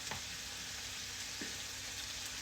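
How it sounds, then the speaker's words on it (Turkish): Butter sizzles and fries in a hot pan with a soft, steady crackling hiss, quiet and even throughout, with no talk. "Biraz tereyağı koyuyorum."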